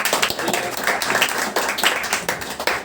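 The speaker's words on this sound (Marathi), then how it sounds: "आता सगळ्यांनी जोरदार टाळ्या वाजवा बघा" An audience of students at a motivational lecture claps loudly and together in a dense burst of applause lasting a few seconds.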